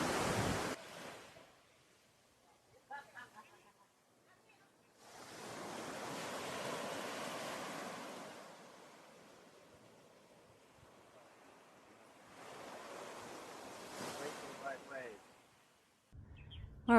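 Ocean surf at Princess Margaret Beach on Bequia rolls in two broad swells of wash, each building and fading over several seconds, heard from above with wind buffeting the microphone and faint birdsong in between.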